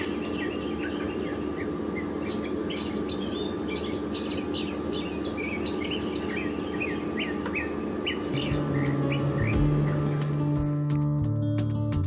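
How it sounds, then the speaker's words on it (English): A mockingbird sings a varied string of chirps and warbling phrases in the distance, down in a field, over a steady insect-like hum, with a low mechanical drone entering late. "the mockingbird is singing so loudly down in the field."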